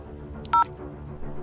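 A phone keypad dials, with one short, clear two-tone beep standing out over a low background hum, close and distinct.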